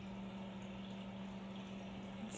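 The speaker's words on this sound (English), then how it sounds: "Waterfall." Steady rushing water from an indoor decorative waterfall in a bedroom, a continuous low, even wash with a faint hum underneath, soft and unbroken throughout.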